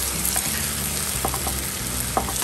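Chicken malai tikka sizzles steadily in a pan, a continuous loud frying hiss with a few faint clinks of a utensil, no voices.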